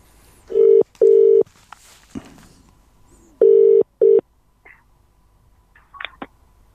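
A telephone being dialed, with two pairs of steady electronic tones separated by short pauses, followed by faint clicks and small beeps, loud and close with no talking.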